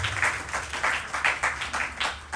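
An audience applauds at a Ganesh Chaturthi Utsav celebration in 2025, steady clapping in rhythmic bursts filling the space, moderately loud with no voices over it.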